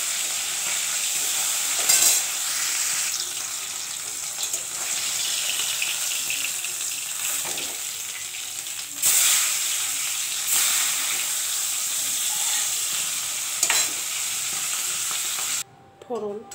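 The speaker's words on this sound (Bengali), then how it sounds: "এই যে দেখুন মাছ এবার তেলে ছেড়ে দিচ্ছি।" Fish sizzles steadily in hot oil in a home kitchen, a loud continuous frying hiss broken by a few sharper spatters and stirring scrapes, with no talking.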